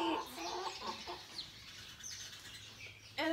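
Three leghorn hens on a farm cluck and call in short bursts, fairly close, with a brief flutter and a final squawk, no talking.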